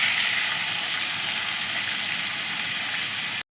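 Koi fish, two or three at a time, fry in hot oil in a pan, giving a loud, steady, close hiss of sizzling that runs without a break and then stops abruptly.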